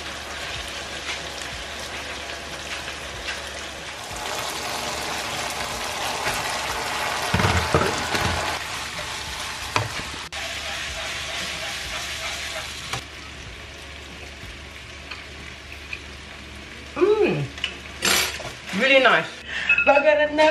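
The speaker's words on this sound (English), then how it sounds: "let me wash the dishes" Dishes are washed by hand under a running tap, giving a steady close hiss of flowing water with scattered clinks of crockery and glass; the splashing grows busier near the end.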